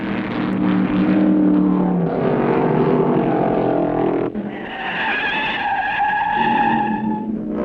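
Tires squeal loudly in a long, sustained skid that flat-spots them as 1970 Grand Am race car engines roar, the screech shifting pitch partway through.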